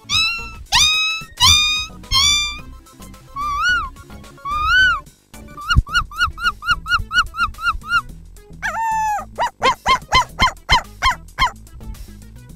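A man vocally imitates a dog struck by a stone, with loud, close yelping cries followed by a rapid series of short repeated yelps and whines, alone and in a rhythmic burst.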